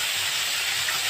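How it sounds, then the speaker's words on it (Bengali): Tengra fish fry in hot oil in a kitchen pan, giving a continuous, even, hissing sizzle that stays loud and close with no talking. "মাছগুলো ভেজে নেব।"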